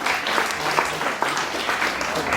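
A church congregation claps together in a short, dense round of applause, steady and fairly loud with a faint murmur of voices.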